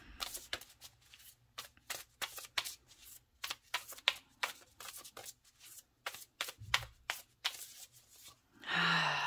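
Tarot cards being shuffled by hand in repeated quick riffling bursts, close and quiet, with short pauses between, ending in a louder rustle.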